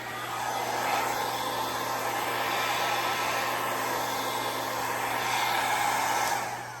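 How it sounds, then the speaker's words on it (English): A hair dryer on high blows across acrylic paint mixed with Floetrol and water for a Dutch pour, a steady loud broadband whoosh with a low hum running unbroken for about seven seconds. "I sometimes use the hairdryer on high when I'm doing the base"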